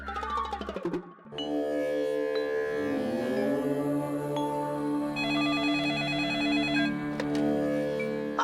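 A telephone ringtone plays steadily after a brief opening sound, a sustained electronic melody with bright repeating tones, fairly loud and close.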